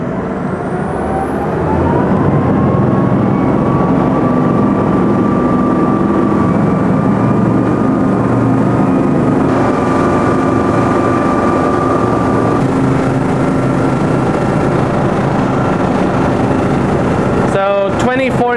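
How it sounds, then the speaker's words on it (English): Twin Yanmar 4LV 250 hp diesel engines of a Greenline 40 hybrid yacht run loud and steady, a deep continuous drone with a tone that rises as they come on, heard close throughout. "switch into diesel mode. And you hear this 2 Yanmar 4LV 250 horsepower kicking in."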